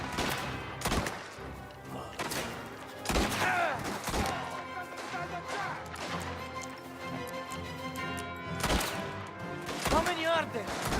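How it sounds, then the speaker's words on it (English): Shotgun fire in a gunfight in Mafia: The Old Country, with several loud, sharp blasts spread over the stretch, among other gunshots, crashes and a busy game soundscape, and a voice talking in places. "Is this a shotgun or is it a rifle?"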